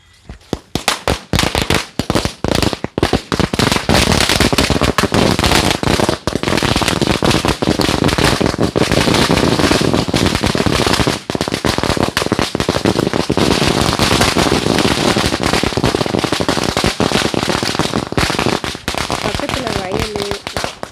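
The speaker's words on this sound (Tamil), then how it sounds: "சாட்டைக்கயிறு பற்ற வச்சாச்சு, வெடியை பற்ற வச்சிடலாமா?" Long string of firecrackers lit by a burning rope fuse near a water-filled canal, a dense, loud rapid crackle of bangs running almost continuously for about twenty seconds with a voice faintly underneath.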